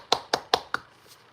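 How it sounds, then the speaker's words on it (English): Four sharp hand claps in a steady rhythm, close and crisp, each with a short ringing decay, followed by a faint fifth tap and then quiet. "I'm clapping."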